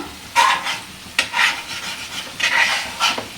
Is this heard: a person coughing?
no